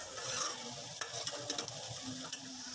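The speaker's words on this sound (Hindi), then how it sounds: "प्याज ऐड करने के बाद प्याज को हम लाइट ब्राउन करेंगे।" Onions frying in browned spices in a pan while being stirred, a soft steady sizzle broken by several sharp scraping clicks from the spoon.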